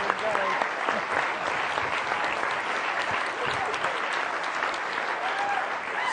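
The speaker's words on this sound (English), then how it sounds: "I think that deserves a big round of applause." Audience at a keynote talk on regenerative grassland work gives a sustained round of applause, a dense, even wash of many hands clapping from a large crowd throughout.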